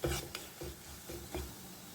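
A spoon stirs turmeric and chili powder in a pan for lime and date pickle, making close, rhythmic scraping strokes that repeat about every half second with a faint sizzle underneath.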